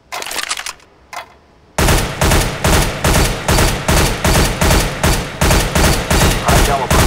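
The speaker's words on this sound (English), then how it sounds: "For this next test, we need you to hit that target. Fire in short, controlled bursts." Rifle fire in Counter-Strike: Global Offensive's weapon training course, a loud run of short controlled bursts repeating about every half second after a brief quiet start.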